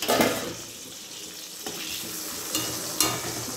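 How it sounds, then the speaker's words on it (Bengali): Long strips of eggplant fry in a pan in a home kitchen, giving a steady close sizzle broken by a few sharp clinks of stirring, with no talk. "বেগুন ভাজা।"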